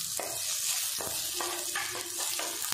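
Garlic and chopped onion sauté in a pan over a loud constant sizzling hiss, with a spoon scraping and tapping against the pan every half second or so.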